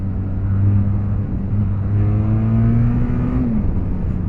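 A Benelli TRK 502 X motorcycle engine revs close by, a loud, steady drone climbing gradually in pitch over several seconds before dropping off sharply near the end.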